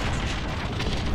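Cluster strike explosions in a video game pound continuously as a loud, dense rumble of overlapping blasts with no pauses.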